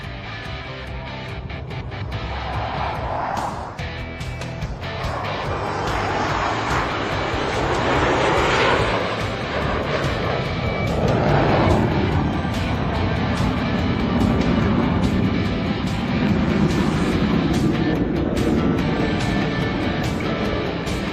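Military jet flying low and slow at an air show at Joint Base Andrews, a loud, continuous roar swelling and shifting as it passes, with no clear voices over it.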